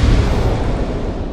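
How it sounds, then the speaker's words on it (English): A dropped barrel explodes in Dark Souls 2 with a loud, dense blast and a sustained rumbling roar that fills the whole moment, with no voices. "And a huge explosion will occur"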